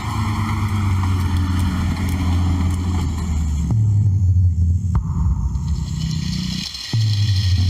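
A meat truck drives around a lion centre, its close engine rumbling low and steady, shifting in pitch as it moves, with a brief scrape and dip near the end.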